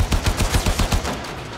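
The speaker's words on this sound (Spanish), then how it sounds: "Ya me disparan, ya me disparan." Rapid automatic gunfire in the video game Warframe rattles in a quick regular burst of about ten close, loud shots, then trails off.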